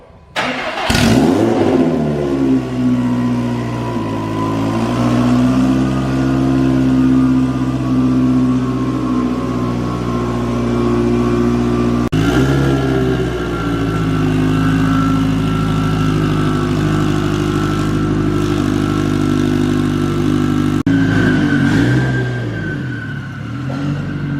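A Subaru STI engine, built toward 1000 hp, revs hard at open throttle in sustained loud, close pulls that sag briefly and climb again twice, with no voices.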